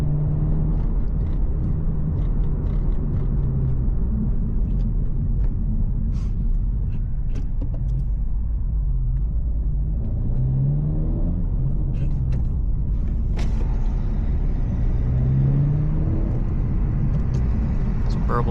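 A tuned Honda Civic Si rumbles along on the road with a steady low exhaust drone, scattered pops and burbles breaking through as it lifts off throttle, while someone talks over it inside the cabin.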